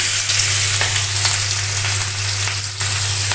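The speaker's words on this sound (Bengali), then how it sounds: "এখন এই যে পেঁয়াজগুলো দিয়ে দিব" Onions hit hot oil already used for frying fish, giving a loud, steady close-up sizzle with a constant hiss and no talking.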